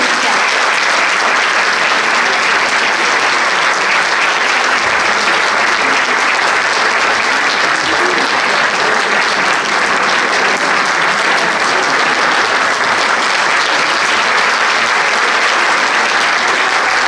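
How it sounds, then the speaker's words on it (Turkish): Loud, dense audience applause fills a conservatory concert hall after a student piano performance, sustained evenly and close throughout. "Alkışlarınızı çekeceğim."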